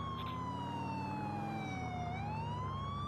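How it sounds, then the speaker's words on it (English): A police car siren wailing continuously, a loud sweeping tone that slowly falls and then rises again over a steady engine drone, heard close and alone without talk. "Simply turn your sirens on,"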